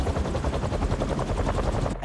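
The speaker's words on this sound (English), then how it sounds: "a helicopter's blades." Pulsing low helicopter-blade sound effect in the Spider-Man 2 video game, a steady rhythmic chop with a deep boosted low end, loud and continuous for about two seconds with no talk.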